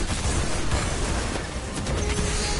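Dense, continuous battle noise from the Destiny video game, with rumbling explosions and crashing blasts layered into a loud, unbroken roar for the whole stretch, no single boom standing clearly apart.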